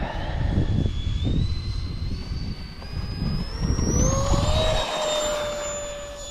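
A small FMS A-10 RC jet airplane engine whines and rises in pitch as it accelerates for takeoff, a steady roaring hiss building and then drifting slightly away.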